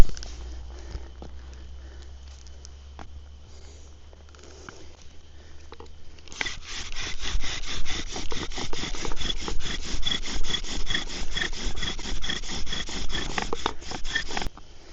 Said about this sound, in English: This time I'm going to drill with the case on, so that way I have just enough of the socket exposed.